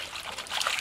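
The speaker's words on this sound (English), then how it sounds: "Here is a small riffle running down through here, running into this small pool" A small stream riffle trickling over cobbles and gravel in a headwater brook, a brief, close, bubbling burble that is steady and moderately loud.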